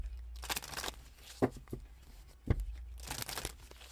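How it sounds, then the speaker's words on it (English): Tarot cards are shuffled close up, giving crisp papery riffles and a couple of sharp snaps between quieter stretches. "I try to mute it when I shuffle and I forgot"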